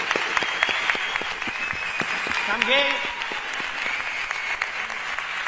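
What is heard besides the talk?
applause from carnival audience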